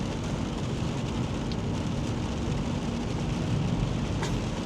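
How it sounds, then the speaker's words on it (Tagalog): Continuous rain falls as a steady, even hiss of moderate loudness with a low rumbling undertone, unbroken throughout and with no voices. "Continuously pa rin yung ulan."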